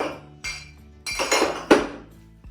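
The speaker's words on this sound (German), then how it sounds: "Ich räume die Spülmaschine aus und das dreckige Geschirr ein." Dishes and cutlery clatter in a home kitchen as a dishwasher is unloaded and dirty crockery loaded, several separate clinking bursts of plates and silverware close to the microphone, with no voices.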